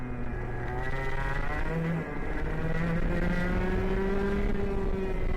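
A go-kart fitted with a KA engine drives a lap, its engine droning steadily at close range, pitch rising and falling with throttle and gear changes, with no talk.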